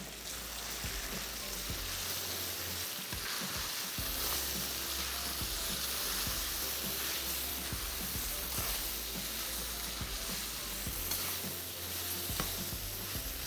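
Spices and salt fry in a hot pan, a constant loud sizzling hiss with soft scraping stirs underneath, close and continuous throughout.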